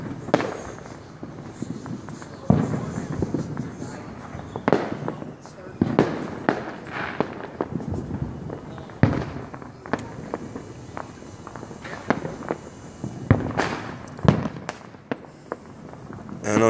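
Cannonball fireworks burst on the Fourth of July, a dozen or so loud booms scattered at irregular intervals, some near and some farther off, with people talking and footsteps in between.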